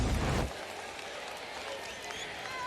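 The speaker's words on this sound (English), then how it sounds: "Crowd hoping for a flag, as is TJ Moore." Football stadium crowd at a Syracuse vs. Clemson college game roars and applauds briefly after a disputed catch, then fades to a murmuring background hum under commentary.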